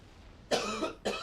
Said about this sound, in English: I have this lingering cough that's been here for like weeks now, and it won't go away.